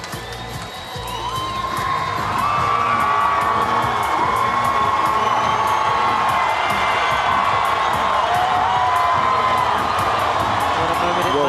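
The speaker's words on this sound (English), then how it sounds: "she's certainly getting a huge cheer" A large stadium crowd at the XV Pacific Games opening ceremony in Port Moresby cheers loudly for Tokelau's lone athlete, a sustained roar with whoops and whistles that swells after the first second and holds steady.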